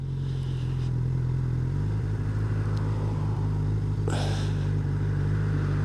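A 2022 Honda CB1000R Black Edition motorcycle pulls away from low speed on a road, its engine hum rising in pitch. A brief louder clatter comes part way through.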